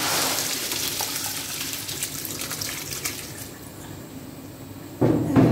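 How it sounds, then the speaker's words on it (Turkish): Water drains off soaked apricots for a large batch of ashure, a splashing, running pour that slowly tapers away, followed by a brief louder clatter at the end. "Suyunu süzmezsek olmaz dostlar."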